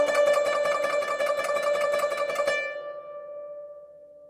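Zheng note sustained by a quick back-and-forth thumb motion, a fast regular pulsing repetition on one pitch that stops abruptly partway through and leaves the string ringing and decaying alone.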